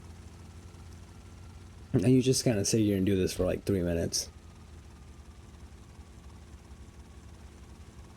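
Helicopter drone from the video game GTA Vice City Stories, a steady low whir running through the whole stretch, with someone talking over it for a couple of seconds in the middle.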